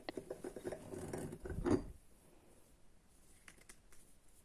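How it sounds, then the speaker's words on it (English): A glass jar of blueberry milk made with blueberries, sugar, milk and water is shaken hard, giving a close rattling, sloshing patter for about two seconds before the sound falls to near quiet. "Shaking it helps redistribute the blueberries on the bottom easier than stirring"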